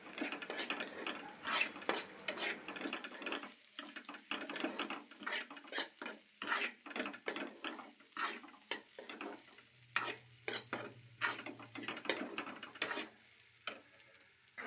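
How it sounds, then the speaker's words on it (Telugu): A spoon stirs egg fry ingredients in a pan, giving continuous scraping and clinking against the metal over a soft sizzle, steady and close throughout. "అంతా ఒకసారి మిక్స్ చేసుకుందాం అన్నీ కలిసేటట్టు."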